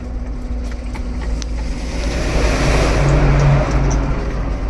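Low, steady engine rumble of a heavy truck driving along, swelling slightly louder midway with constant road noise and no speech.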